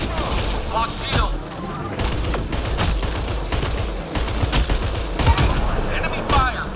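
A relentless firefight from the video game Mass Effect Andromeda, with overlapping automatic bursts, sharp cracks and occasional heavy booms, loud and unbroken, with shouted voices mixed into the din.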